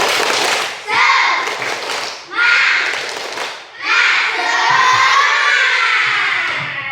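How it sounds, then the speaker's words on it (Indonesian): A classroom of children repeats a clapping chant, loud group shouting and rhythmic claps in repeated bursts with brief pauses between. "Sekali lagi, tepuk semangat."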